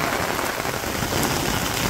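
Steady rain in a Bangladeshi village, a dense continuous patter of drops on surfaces, even and fairly close, with no voices over it.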